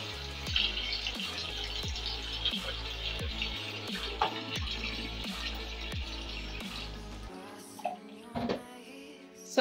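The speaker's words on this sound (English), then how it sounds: "And pour in some water." Water runs and splashes steadily into a bowl prepared for soaking apples and vegetables with vinegar, a continuous close pour with a few clinks near the end.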